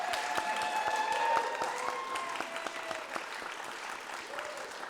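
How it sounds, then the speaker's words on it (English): Concert audience applauding an accompanist at a benefit concert, a steady wash of many hands clapping at moderate level with a few faint sustained tones and murmurs mixed in, tapering slightly toward the end. "let's give a round of applause and have him take a bow"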